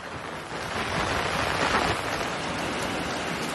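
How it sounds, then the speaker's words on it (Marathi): Heavy monsoon downpour in the Western Ghats near Koyna dam, Satara, a dense steady roar of rain, wind-buffeted and continuous with no voices. "पश्चिम घाट परिसरात मुसळधार पाऊस कोसळायला सुरुवात झाली।"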